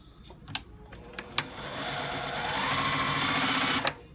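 A sewing machine stitches a quarter-inch quilt seam, a few clicks of the mechanism leading into a steady, close, continuous whirring run that ends with a click.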